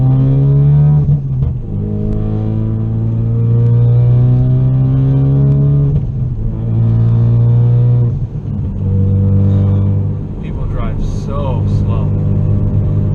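Interior of a 2016 Ford Focus RS cruising in fifth gear at about 66 mph with no throttle, a loud steady engine drone with shifting harmonic tones and road rumble, with someone talking over it.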